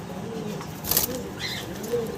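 Pet doves kept for sale in a cage give soft, low coos that repeat a few times, faint and close, with a brief rustle or flutter partway through.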